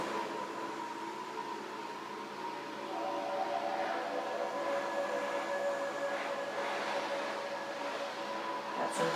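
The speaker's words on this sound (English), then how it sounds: "Got some power washers outside my house today," Power washers running outside a house make a faint, steady rushing hiss with a few thin tonal whines. The noise swells slightly about a third of the way in and holds, distant and continuous.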